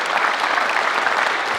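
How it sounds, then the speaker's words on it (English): An audience at a coaches' clinic applauds to welcome a speaker, a dense, even burst of clapping from a crowd filling the whole moment without letup. "give a big round of applause"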